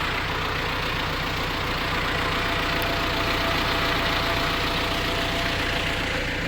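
An MTZ tractor engine running steadily during field work applying liquid fertilizer, a loud, continuous diesel drone with a rough, pulsing low rumble that holds constant throughout.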